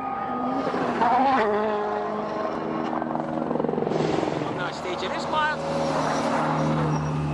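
A 2013 Rally Sweden WRC car passing over Colin's Crest, its engine roaring and changing pitch as it goes by, heard under a commentator's voice.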